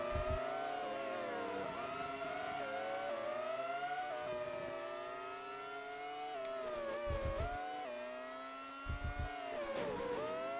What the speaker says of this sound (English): I just think about the car sound and how high pitched it is.